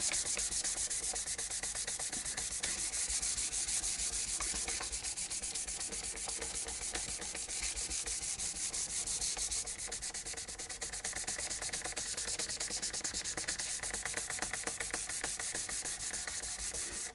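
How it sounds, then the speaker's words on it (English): Steady hand sanding on a guitar with fine 600 grit sandpaper, a continuous close, soft scratchy rubbing with quick back-and-forth strokes and no voices. "hand sand it."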